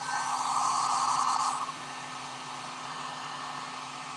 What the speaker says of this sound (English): I'm going to heat gun right there.